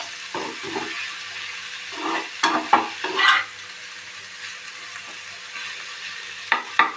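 Paneer bhujia fries in a pan with a low, steady sizzle broken by several bursts of stirring and scraping, loud and close at first, then quieter with a couple of late clinks, and no talk.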